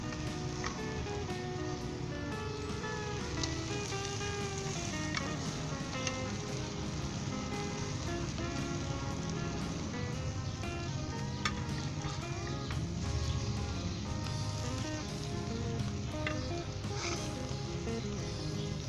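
A paneer omelette fries gently on low heat, giving a steady, even sizzle and crackle that continues without a break for the whole stretch, close by and with no voices.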